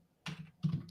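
Two quick bursts of keystrokes clatter on a computer keyboard, close and fairly soft, in a quiet room.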